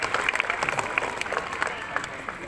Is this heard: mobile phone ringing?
no